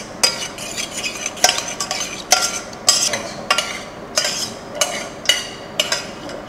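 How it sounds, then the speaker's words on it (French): A spoon stirs a peanut marinade through food in a pan, giving a run of crisp, close scraping strokes at a steady, regular pace, with a soft sizzle beneath them. "La marinade, on va pas la jeter, on va la rajouter avec. On va simplement la mélanger."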